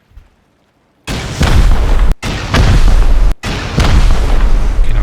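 A rocket blast destroying a player's base and respawn point in a base-raiding video game erupts suddenly out of silence as a loud, close boom, then rolls into a sustained roaring rumble broken by two brief dropouts.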